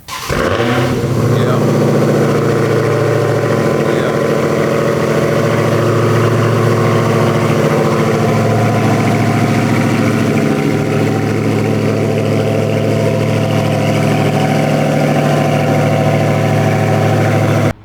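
A Dodge Charger Hellcat fitted with a Demon package idles nearby, giving a loud, deep, steady rumble that barely varies from start to finish after a brief stir at the outset.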